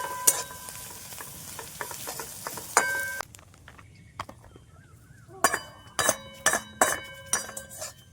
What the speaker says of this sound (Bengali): এই যে গাজর আর ক্যাপসিকামের অলমোস্ট ফ্রাই হয়ে গেছে